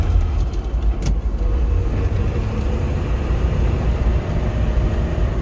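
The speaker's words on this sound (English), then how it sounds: "Gotta love that sound on that shifter. That Muncie shifter is just smooth and precise." A 1966 Corvette cruising on the road with a Muncie manual gearbox, the engine's low steady rumble loud and continuous, a brief mechanical click near the start as the shifter is worked.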